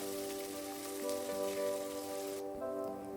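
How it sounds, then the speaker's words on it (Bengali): Sliced onions fry in spices in a pan for a Bengali chicken kosha, a faint, steady sizzle and crackle heard close up with no talking. "ভালোভাবে আমি পেঁয়াজগুলোকে ভেজে নেব এবং ব্রাউন কালার হওয়া পর্যন্ত কিন্তু অপেক্ষা করব।"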